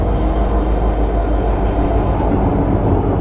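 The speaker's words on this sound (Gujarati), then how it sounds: "ઓહો અમદાવાદની ટ્રેન લાગે, સાબરમતી લખ્યું છે।" A Bhavnagar–Sabarmati Express train rolls slowly past at Dhandhuka, a loud, steady, close rumble of wheels and carriages that runs unbroken with no talk.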